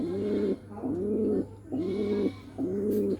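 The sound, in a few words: Giribaz pigeon cooing before laying eggs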